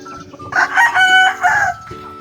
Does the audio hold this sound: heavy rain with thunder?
no